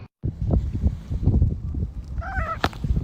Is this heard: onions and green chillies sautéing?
no